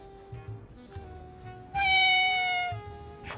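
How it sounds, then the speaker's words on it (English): A cat meows in a cozy alleyway cat cafe guesthouse in Tainan, Taiwan: one loud, drawn-out close meow stands out over quieter room sounds and faint earlier chirps. "Maybe there's a cat inside."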